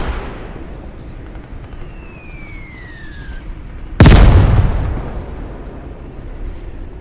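Artillery piece firing in Gates of Hell: Ostfront, one loud booming blast midway that rolls off into a long fading rumble, preceded by a faint descending whistle over steady low battlefield ambience.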